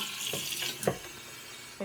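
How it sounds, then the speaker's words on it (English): Half a gallon of water poured through a funnel into a jug while making mead, a steady hissing trickle with a few gurgles and clunks, fairly quiet and close. "we're going to pour a half a gallon of water into the jug using the funnel"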